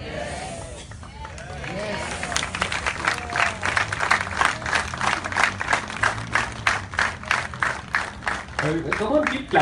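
An outdoor satsang audience in a Mumbai park claps in a steady, rhythmic beat that starts sparse and grows dense and loud, with a few voices calling out over it.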